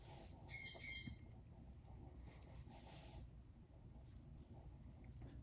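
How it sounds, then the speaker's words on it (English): A pet parrot lets out a short burst of loud, harsh squawks near the start, then stays quiet over steady low background rumble with faint scattered chirps. "I've had my parrot for 13 years"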